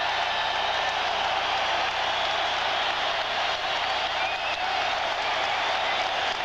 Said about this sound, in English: Crowd here at Chicago Stadium roaring its appreciation as the Bulls take the court